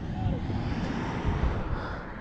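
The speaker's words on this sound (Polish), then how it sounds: "Wydech Arrow." Yamaha DT 125 two-stroke motorcycle with an Arrow exhaust, a steady droning engine note with a rough low rumble, held at a fairly constant pitch throughout.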